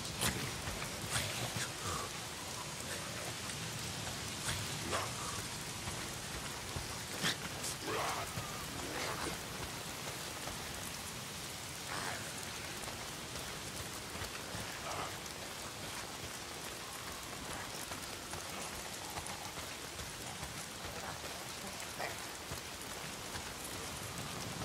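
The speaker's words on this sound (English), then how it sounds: "If it's not the freaks, it's the goddamn rain. Why is it always raining?" Steady rain falls in the video game Days Gone, a constant hiss of drops on surfaces lasting throughout, with faint distant rumbles and occasional sharper spatters but no talking.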